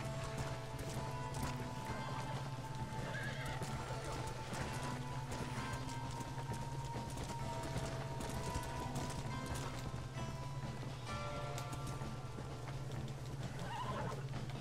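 Hooves clip-clop at a quick gallop over a steady low hum in the video game Red Dead Redemption, with a horse whinnying now and then; fairly quiet overall.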